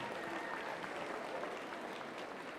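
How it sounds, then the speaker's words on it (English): Steady crowd applause at a youth fair market hog show, filling the space evenly at a constant level with no voices on top. "Let's give him a big round of applause."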